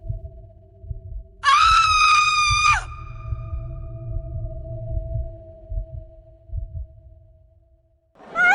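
A young woman in a hospital lets out a loud, sustained high-pitched scream lasting about a second and a half, over a low droning electronic hum and dull rhythmic thumping that continue alone afterward.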